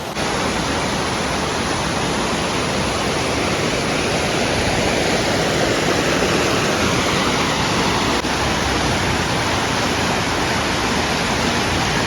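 Steady, loud rush of river water flowing at Vadattupara, a dense continuous roar like a small cascade that holds level throughout with no voices.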